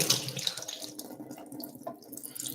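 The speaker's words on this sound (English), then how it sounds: "I'm going to open my black beans and I'm going to rinse them out" Tap water runs into a sink while canned black beans are rinsed, a steady close splashing hiss with brief gurgles and no talk.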